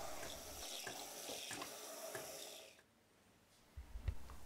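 A Cappuccinatore froths milk by drawing in air, making a hissing, gurgling rush of liquid and air that fades near the end before a short low burble returns; quiet, with no voices.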